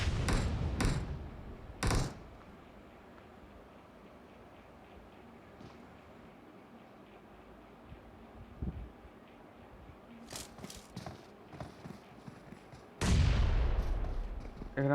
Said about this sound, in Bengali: গ্রেনেড আসলো একটা।